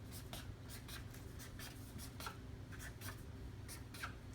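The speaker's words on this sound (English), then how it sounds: "just write, like on this piece of paper, I'm gonna write these plus signs" A pen scratches plus signs onto a sheet of paper in quick, evenly spaced short strokes, faint and close against a low steady background hum.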